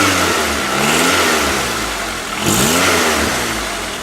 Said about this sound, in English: especially when I rev the engine